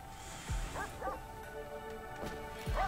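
A small dog in RimWorld gives a few short yips and whimpers, spaced out and moderately close, over a faint steady game background with no talk.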